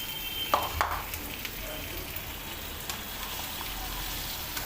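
Onions fry in a pan for Bhojpuri-style pav bhaji, a soft continuous sizzle with a couple of brief stirring scrapes near the start, fairly quiet and with no talking.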